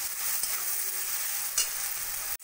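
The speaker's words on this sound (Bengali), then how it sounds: "সব কিছু দিয়ে মশলাটা ভালো করে কষিয়ে নেব।" Spice masala with salt, turmeric, cumin powder and grated ginger frying with bottle gourd in a pan, a constant close sizzle with scraping stirs of a spoon against the pan.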